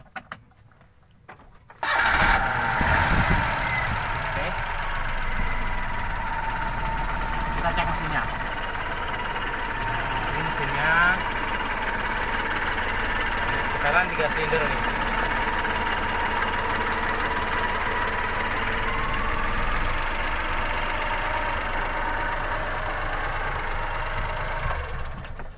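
A three-cylinder engine in a 1987 Mitsubishi Jet Star cranks and catches, then settles into a steady, slightly rough idle that continues close by for over twenty seconds.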